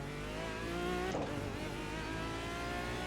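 Aston Martin DBR9 GT1 race car in iRacing, engine droning at steady high revs with a brief sharp shift blip midway, then holding a strong buzzing tone throughout, fairly loud and unaccompanied by talk.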